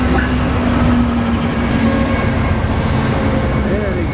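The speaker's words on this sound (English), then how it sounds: "Now this is Amtrak train number 8, the Empire Builder, arriving in Essex, Montana" Amtrak's Empire Builder passenger train rumbles steadily nearby, wheels squealing faintly as it rolls slowly into the station at Essex, Montana, with a continuous low mechanical drone throughout.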